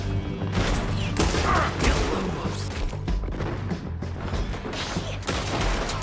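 A shootout in Red Dead Redemption 2 keeps up a dense, continuous run of gunshots and impacts that crackle and thud without a break, loud and close throughout.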